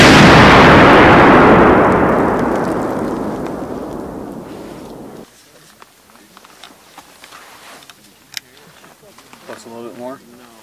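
A Claymore mine fired by U.S. Army paratroopers of the 54th BEB during training goes off in a loud, deep blast that rumbles and fades over about five seconds. Distant voices and small outdoor noises follow.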